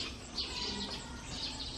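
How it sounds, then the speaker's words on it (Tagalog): Birds chirping in the morning outdoors: faint, high twittering calls repeating over a quiet background, with a couple of brighter chirps standing out at a distance. "Mga huni ng ibon."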